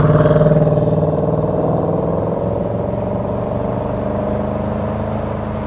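Range Rover 5.0 SVR engine revving, a loud, close, steady throaty rumble with a deep pulsing tone that eases slightly and then holds, with no talking.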